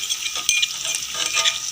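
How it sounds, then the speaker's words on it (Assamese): Onions frying with ginger and garlic in a pan give a steady, bright sizzle, with a few soft stirring scrapes across a short stretch and no talking. "এনেকৈ লাৰি আছোঁ পিঁয়াজবোৰ এতিয়া"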